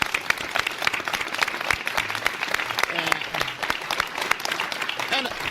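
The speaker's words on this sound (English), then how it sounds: "Give yourself a round of applause." A studio audience applauds in a dense, steady patter of many hands clapping at once. Faint talk can be heard underneath.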